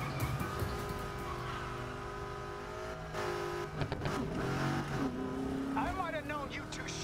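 A busted-up Mustang races in Need for Speed Heat with a steady engine roar and tire squeals, and a voice talks over the driving throughout.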